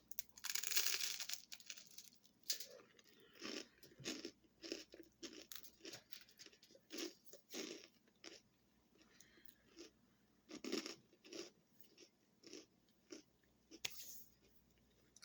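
Crisp crunching bites and chewing of yogurt toast topped with crystallized honey, a steady series of sharp crackly bursts close to the mic, with quiet pauses between chews.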